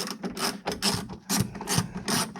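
A ratchet wrench undoes the side view mirror bolts on a Toyota MR2 Spyder, giving several bursts of close, loud rapid clicking with short pauses between strokes, and no talk over it.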